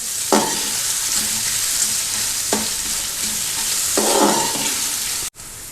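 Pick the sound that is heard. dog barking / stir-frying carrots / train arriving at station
stir-frying carrots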